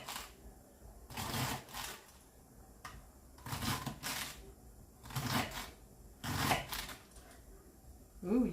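Celery being cut with a knife for a salad, a series of crisp chopping bursts in uneven groups over a quiet room background, fairly close and alone.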